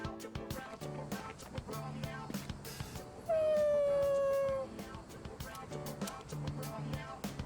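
Koromaru, a dog in a Persona game, lets out a single drawn-out, falling whimper-howl in the middle, set against soft game music with light rhythmic clicks before and after.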